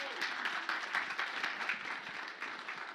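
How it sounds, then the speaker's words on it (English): Audience applause at the 2018 Texas Libertarian Convention, a steady roomful of clapping hands that carries on for several seconds in a large hall. "Yes, clap for that."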